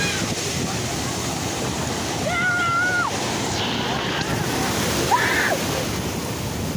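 Ocean surf washes steadily at Myrtle Beach, a broad hiss of waves and wind noise on the microphone, with faint voices and a few short calls heard in the background.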